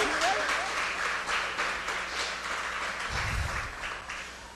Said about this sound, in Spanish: Aplauda con ganas porque usted no es uno de ellos.